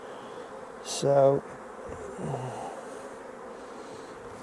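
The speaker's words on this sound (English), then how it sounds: "The bees are calm, seem very calm, which is good, especially since it's the first time they've been opened." Calm honeybees at a freshly opened hive during an early-season inspection, a soft steady hum in the background, with a short spoken word and a brief louder snort or breath over it.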